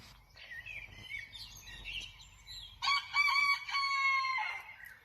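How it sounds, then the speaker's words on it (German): A rooster crows at 4:40 in the morning in Graz, one long loud drawn-out call ringing out after softer distant crowing and birdsong in a quiet outdoor setting. "Der kräht jetzt schon seit einer halben Stunde."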